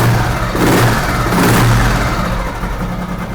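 A nearby Royal Enfield motorcycle engine hums steadily and rises in a couple of revs before settling back, loud and continuous with no talking.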